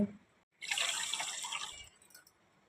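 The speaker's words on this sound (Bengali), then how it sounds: "1 বাটি চিনি দিলাম আর 2 বাটি জল দিব" Water is poured from a bowl into a pot holding a bowl of sugar to start a sugar syrup for rasgulla. The pour is a steady, close splashing that runs about a second and a half and then trails off quietly.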